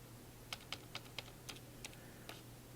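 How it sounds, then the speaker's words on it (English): Typing numbers into a calculator: seven light, distinct key taps at an uneven pace over a couple of seconds, faint and close, over a low steady hum with no voices. "So I'm going to type it in."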